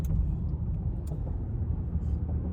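A family car driving along a road during a grocery trip, heard from inside as a steady low rumble of engine and tyres with faint background noises.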